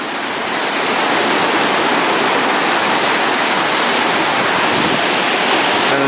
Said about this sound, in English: there's a few waves coming today.